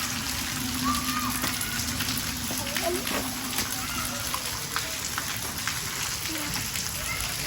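Heavy rain pours steadily over a Pakistani Punjab village, a dense, even hiss of drops that fills the whole stretch, with voices faintly underneath.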